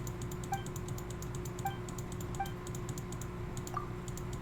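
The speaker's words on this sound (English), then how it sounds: "you'll hear the clicking" Computer keyboard keys click rapidly and steadily during Genshin Impact play, heard up close over a constant hum and soft chiming game sounds.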